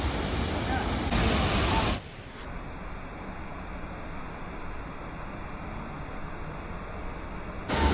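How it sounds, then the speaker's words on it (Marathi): A waterfall at Jawhar in Maharashtra, heard from a distance as a steady broadband rushing roar, continuous and even throughout with no voices. "हा बघा, तुम्ही बघू शकता धबधबा."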